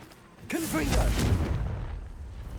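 Blasting spell explosion in Hogwarts Legacy, a sudden loud boom that rolls into a long rumbling roar lasting about two seconds, with a shouted voice at its onset.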